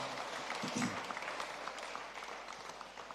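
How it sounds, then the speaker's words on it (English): Audience applause at a Cowdray Gold Cup polo draw event, a soft, fairly distant patter of many hands that fades slightly toward the end. "Let's have a round of applause for that."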